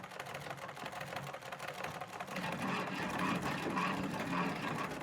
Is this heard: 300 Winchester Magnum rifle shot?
no